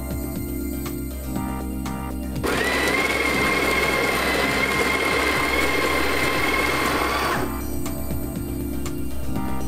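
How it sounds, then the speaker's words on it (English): Coffee grinder running on beans for about five seconds, a steady loud whirring grind that starts abruptly and stops abruptly, with a quieter background hum before and after. "We're just going to grind some coffee now."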